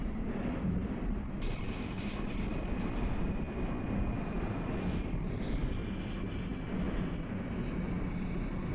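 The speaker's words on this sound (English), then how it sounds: "as you can guess, yes, the express train has descended" A New York City subway express train runs in the OpenBVE train simulator game, a loud continuous rumble of wheels and motors with a thin high whine rising partway through and sliding tones near the end.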